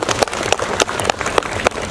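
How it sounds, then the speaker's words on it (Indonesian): Applause at a regional cleanliness award ceremony for sanitation workers, heard as fairly close, uneven bursts of clapping with sharp individual claps standing out over a dense background. "Tepuk tangan buat Bapak Ibu semua."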